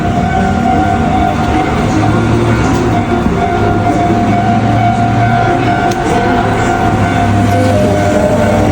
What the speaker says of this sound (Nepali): बल्ल मेरो ट्रेन पनि आयो।